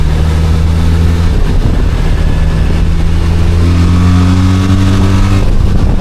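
An A2-licence trail motorcycle accelerating hard, its engine loud and near with rising revs in stepped gear pulls, a brief dip between shifts, no voices over it.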